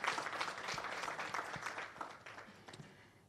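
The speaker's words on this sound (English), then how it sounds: "Now, you can have another round of applause for Rumbi." Faint, dense applause from a seated audience at a community presentation, steady at first and gradually tapering away toward the end.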